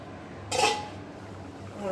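A metal lid is set down on a kadai once, giving a single short clank over a quiet kitchen background.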